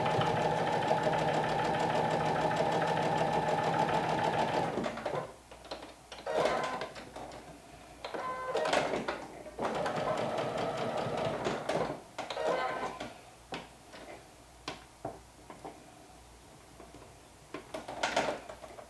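A sewing machine stitches a garment front in rapid, even runs, strongest and continuous at first, then breaking into shorter bursts with pauses and small clicks, close and moderately quiet.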